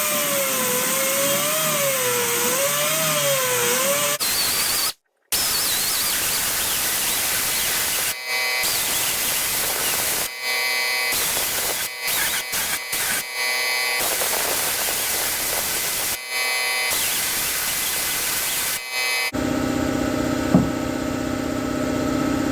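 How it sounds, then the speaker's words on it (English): A pneumatic die grinder cleans out a hole on a Case D tractor front end, running in loud bursts of steady whine with short pauses between them, followed at the end by a different mechanical hum. "I'm going to go in there with the die grinder and this guy and see what we can do"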